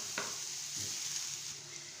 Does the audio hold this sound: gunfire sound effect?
no